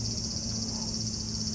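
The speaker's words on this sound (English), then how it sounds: "And now the cicadas slow down." Cicadas on a Tokyo summer day keep up a dense, steady high-pitched drone, loud and continuous over a low background hum.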